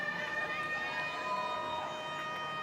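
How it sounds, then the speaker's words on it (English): A half-time siren sounds at a women's rugby league match, a faint, steady tonal wail carried across a stadium over the hum of the crowd. "The siren sounds"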